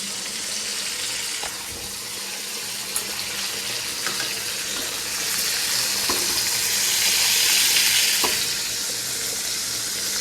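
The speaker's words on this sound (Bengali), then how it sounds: "কড়াটা এদিক ওদিক তেলটা করে মাছটা সুন্দর করে ভেজে নেবো।" Fish fries in oil in a wok, producing a continuous close hiss that swells and fades, with occasional faint clicks and knocks and no talking.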